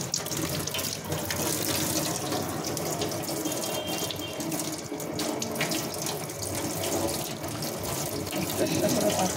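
Tap water runs steadily into a sink while pumpkin leaves are washed by hand, a continuous close splashing rush throughout.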